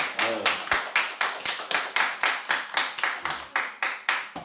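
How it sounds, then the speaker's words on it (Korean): A small group in a Korean church children's sermon claps in a steady rhythm, with about a dozen even, sharp claps nearby and a short voice at the start. "박수 한번 주세요"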